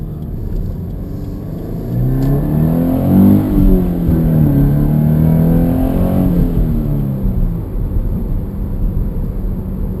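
A Scion FR-S sports car engine revs up from a low rumble, pitch climbing and falling as it accelerates, loud and close, then settles back to a steady drone.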